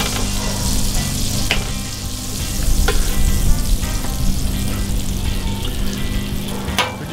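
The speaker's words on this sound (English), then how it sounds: "we're gonna cook up some onions" Onions sizzle and fry in a hot pan for a patty melt, a steady, loud crackling hiss throughout with a few brief clinks from stirring and no voices.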